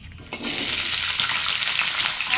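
Vegetables for a Bengali shukto, potato and carrot among them, fry in hot oil in a kadai: after a brief quiet start, a loud, steady, close sizzle takes over and holds without talk.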